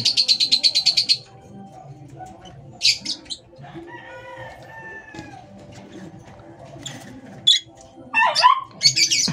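Lively birdsong in an aviary with bursts of rapid chirping and trills, some near and loud, over a constant low background hum of the enclosure.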